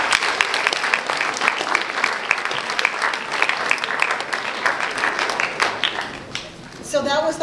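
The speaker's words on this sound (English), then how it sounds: "that deserves a clap, right?" An audience at a school forum breaks into sustained, steady applause that fades near the end, where a voice begins speaking.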